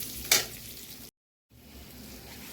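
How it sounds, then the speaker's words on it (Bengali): Rice fries on low heat in a pan for a fish-head dish, giving a quiet, steady sizzle with a sharp stirring scrape near the start; a brief gap of silence cuts it midway. "চালটা দিয়ে কম আঁচে নাড়বো, পুরো চালটা ভাজা হবে।"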